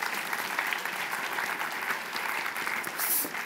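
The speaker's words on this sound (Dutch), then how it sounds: "Applaus voor de mensen in de roddelroulette." Studio audience on a Dutch talk show gives sustained applause, a dense, even patter of many hands at moderate volume that swells slightly near the end, with no speech.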